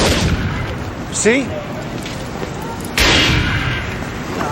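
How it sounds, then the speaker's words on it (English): A sharp gunshot cracks out in an urban neighborhood amid steady outdoor noise, followed by a louder burst; someone speaks briefly over the background. "Ray, that was a gunshot."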